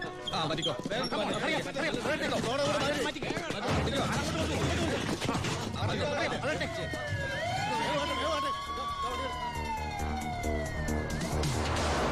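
A fire engine siren wails as the vehicle approaches, its rising and falling tone sweeping clearly over a busy mix of engine noise, clatter and shouting voices.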